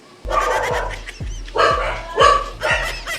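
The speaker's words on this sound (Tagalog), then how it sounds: "kakamiss guys kasi ingay itong aso na to" A dog barks repeatedly up close, several sharp yapping barks in quick uneven succession.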